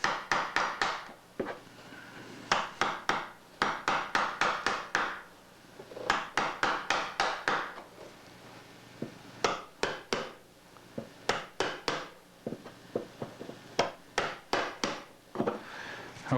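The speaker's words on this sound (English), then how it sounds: "I like to use the flat side of the chisel against the sides of the hole." A steel chisel chops and pares a hole in wood with sharp, irregular knocks, some in quick clusters of four or five, others single, close and crisp against a quiet room.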